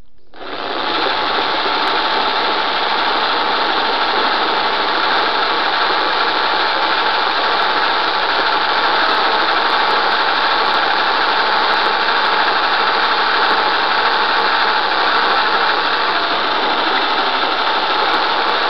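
A power drill fitted with a masonry bit drills into steel, running continuously at high speed, a loud, steady grinding whine that starts abruptly and holds without pause.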